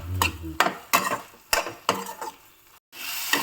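Chili and turmeric powder frying in oil are stirred with a spoon in a pan, sharp rhythmic scrapes and clinks against the metal roughly every half second over a steady sizzle, close up.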